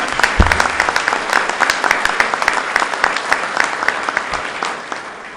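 Loud, sustained applause from an audience at a governor's announcement event, with many close sharp claps forming a dense, continuous roar that tapers slightly at the end.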